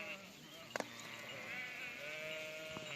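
A lamb bleats outdoors beside a ewe, its thin wavering cries carrying steadily for a few seconds over a low background hum, with a couple of brief knocks early on.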